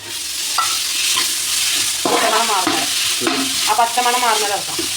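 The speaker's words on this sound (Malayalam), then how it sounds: "ഇഞ്ചി, വെളുത്തുള്ളി, പച്ചമുളക് പേസ്റ്റ് എന്ത് ചെയ്യുക, ചേർത്തിട്ട് നല്ലോണം ഇളക്കി കൊടുക്കുക" Onions stir-fried with ginger, garlic and green chili paste sizzle loudly and continuously in a pan, with a spoon scraping through in repeated strokes close up.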